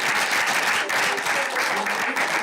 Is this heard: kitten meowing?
no